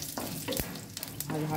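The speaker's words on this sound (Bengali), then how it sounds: "হালকা ভাজা ভাজা করে নেবো।" Whole fennel seeds and dried red chillies fry in hot oil, crackling and sizzling steadily while a spoon scrapes and stirs the pan in a few sharp strokes, close and fairly loud.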